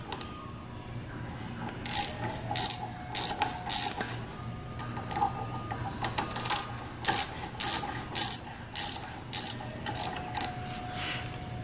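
A ratchet on a T5 Allen bit loosening the brake caliper pad bolts of a Ninja 400, with clear close clicking strokes in short repeated bursts and brief pauses between them.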